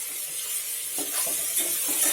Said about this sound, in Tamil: வெங்காயம் நல்லா பொன் முருவலாக வர அளவுக்கு இதை நல்லா வதக்குங்க.